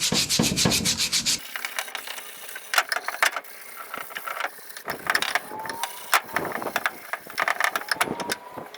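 Used, worn 180-grit abrasive is rubbed back and forth along a metal shaft, giving repeated close, rasping sanding strokes in an uneven rhythm, with some brief mechanical clicks between passes.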